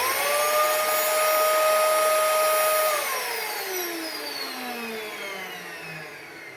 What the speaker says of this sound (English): So the vacuum cleaner doesn't sound like it did previously.